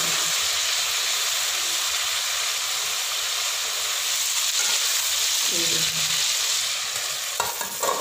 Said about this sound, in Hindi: ये देखो मैं इसको एहतियात से फ्राई कर रही हूँ